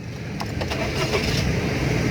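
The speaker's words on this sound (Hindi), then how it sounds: "अगेन गाड़ी को हमने स्टार्ट किया" A 2014 Suzuki Stingray engine starts and settles into a steady, fairly loud idle that fills the whole stretch, with no one talking.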